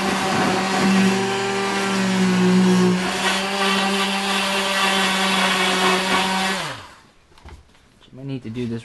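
A router cuts the slot for a Futures fin box into a surfboard, a loud steady high motor whine with a cutting roar that winds down after about seven seconds, followed by quieter handling noise.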